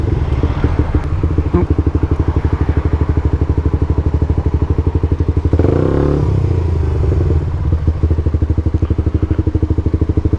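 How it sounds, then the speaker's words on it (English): A motorcycle engine running with a fast, even pulsing beat and rough clatter up close, with a brief louder surge midway that fits the rear wheel spinning. "Oh, wheel spin."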